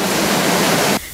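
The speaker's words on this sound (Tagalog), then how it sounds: "Sa drainage kung saan dadaloy sana ang baha, bumubulwak ang tubig." Floodwater gushes up out of a street drainage in Manila during heavy rain, a loud, steady, close rushing roar that cuts off abruptly near the end.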